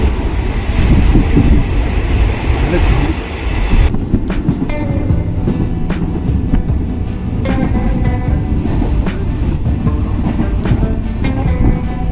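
An unreserved special passenger train bound for Guruvayur rolls past close by, with a loud continuous rumble and metallic rattling of the carriages throughout and no talk.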